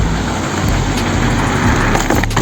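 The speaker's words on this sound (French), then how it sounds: "Il fait sa lancée sur le tremplin." A soapbox cart rolls fast and launches off a wooden pallet ramp outdoors, making a loud, continuous rumble of wheels and wind with a few knocks, and no voices.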